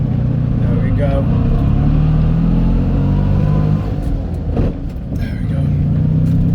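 A classic Fiat 500 engine drones steadily as the small car drives along, a loud, close, continuous rumble with a slight dip partway through.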